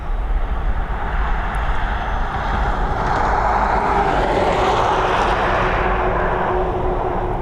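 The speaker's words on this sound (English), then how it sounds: "We've got that Boeing 737 up and away into these beautiful skies above Dublin International" Boeing 737 taking off from Dublin Airport: a loud, steady jet engine roar that holds broadband and strong throughout, swelling slightly in the middle as the airliner climbs away.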